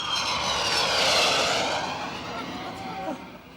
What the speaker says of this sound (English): It's just a plane coming in.